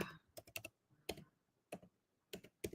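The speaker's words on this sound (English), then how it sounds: "I'm going to type it in the comments" Nearby computer keyboard typing in short bursts of quick, crisp key clicks separated by brief pauses, fairly quiet in an otherwise silent room.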